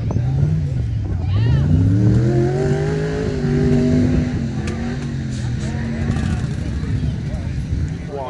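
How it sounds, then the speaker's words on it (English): Jeep engines at an off-road 4x4 Jeep race event in Ethel, Washington, rumble loud and continuous with rising and falling revs as rigs idle and accelerate nearby, with voices underneath. "You can see there's quite the lineup of Jeeps ready to run."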